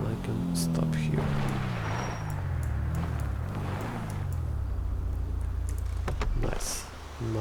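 A red sports car in a driving video game cruises along a coastal route at high speed. Its engine drones steadily, sliding down and up in pitch as it shifts, with a few soft clicks and whooshes over the top.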